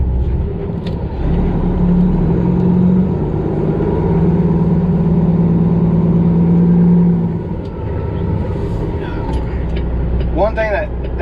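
A loaded semi truck pulls away in second gear, its diesel engine droning steadily and loud from inside the cab, easing off toward the end while someone talks over it.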